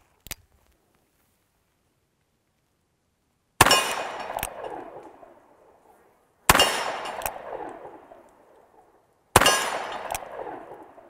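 .500 S&W Special revolver rounds fired at a target: a faint click, then three loud sharp reports about three seconds apart, each ringing briefly, with no talk.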